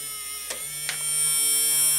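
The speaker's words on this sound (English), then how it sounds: "Notice how fast the motor's going? It's going pretty fast," Snap Circuits M1 toy motor spinning fast on a 4.5-volt battery pack, giving a thin, steady electric whine that rises in pitch after a couple of light clicks, close and fairly quiet.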